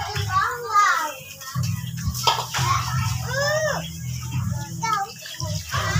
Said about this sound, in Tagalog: maghuhugas na tayo ng tilapia at bangus